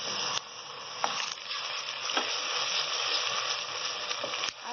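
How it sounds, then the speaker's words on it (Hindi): Garlic-ginger paste hisses and sizzles steadily in a frying pan of light golden-brown fried onions, a continuous close crackle with occasional louder spits and a stir or two, no talking. "उसमें लहसुन अदरक का पेस्ट डालेंगे"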